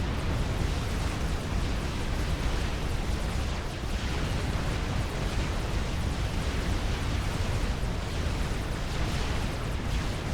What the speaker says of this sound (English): The mobile missile launchers are pummeling his base